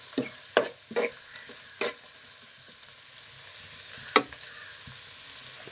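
A spoon stirs food frying in a pan, with irregular scraping strokes over a steady sizzle, a few sharper clatters standing out close by and no voices.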